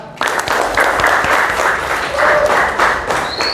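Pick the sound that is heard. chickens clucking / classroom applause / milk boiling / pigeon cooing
classroom applause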